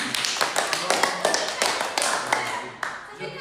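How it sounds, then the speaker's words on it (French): A small group claps on cue at a live stream, separate hand claps landing in a loose, uneven rhythm, close and moderately loud, thinning out toward the end. "Allez, on applaudit."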